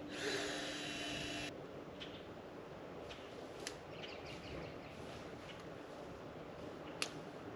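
A steady, faint drilling whir as a tap hole is drilled into a maple tree, with a brief louder burst at the start and a few light clicks and taps.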